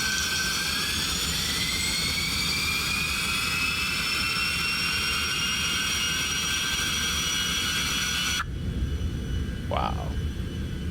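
Jet engines in the X-Plane 12 flight simulator roar and whine with rising tones, a loud steady airplane drone that cuts off sharply, leaving a quieter rumble and a brief chirp.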